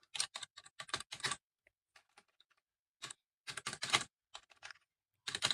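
Computer keyboard typing in bursts of quick, close keystrokes while someone writes Python code, with short pauses between flurries and no talking.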